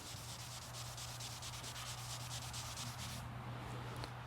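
Steady, close sanding of car paint with a silicon carbide disc on a cordless polisher, a continuous abrasive rubbing hiss with a low motor hum underneath, running evenly for a few seconds before easing slightly.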